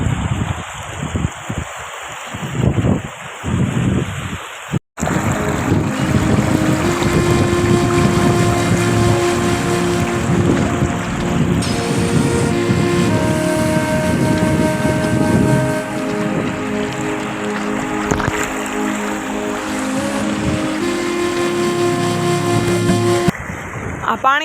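Floodwater where the Ojat and Madhuvati rivers meet roars in a loud, unbroken rush, buffeted by wind noise on the microphone, with a voice briefly heard near the start.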